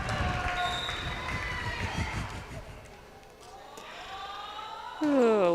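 A high school volleyball crowd at Knott County Central roars in a loud, continuous wash of cheering and shouting, with whistles or horn-like tones rising near the end.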